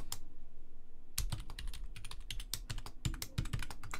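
A password being typed quickly on a computer keyboard, a short tap followed by a pause, then bursts of rapid close-up key clicks, no voices.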